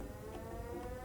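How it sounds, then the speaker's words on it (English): A steady air raid siren drones in the video game Schedule I, holding a continuous layered tone for the whole moment at a moderate, slightly distant level with no talking. "There's an air raid siren going off."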